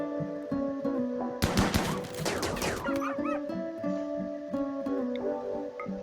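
Gunfire rattles in the video game Rimworld as colonists shoot at animals: a dense burst of rapid shots lasting over a second, set against steady game music.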